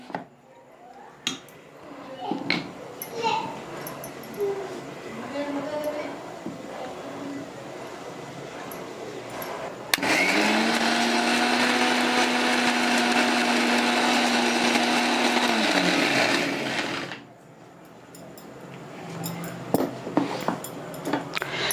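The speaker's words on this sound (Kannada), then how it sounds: "ಇದನ್ನು ನಾನು ಮಿಕ್ಸಿಗೆ ಹಾಕೋತಾ ಇದ್ದೀನಿ, ಮಿಕ್ಸಿ ಮಾಡ್ತಾಯಿದ್ದೀನಿ" A mixer grinder blending pressure-cooked carrots for carrot payasa whirs loudly and steadily for about seven seconds, its motor hum constant. Kitchen clatter of a jar and utensils comes before and after the grinding.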